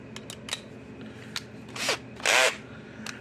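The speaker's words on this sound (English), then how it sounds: "let's get the screws out of this thing" Screws come out of a Zareba 25 mile electric fence charger: a few light clicks and taps, then two short whirring bursts of a driver, the second longer and louder, nearby with no talking.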